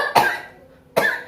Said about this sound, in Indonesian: nanti kalau saya bilang batuk, batuk ya Bu.